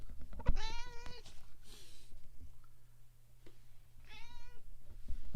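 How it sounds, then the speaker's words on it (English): Ozzy, a pet cat, gives two clear, drawn-out meows, close by with a pause between them, over a faint indoor background hum. "I got you to meow for the microphone"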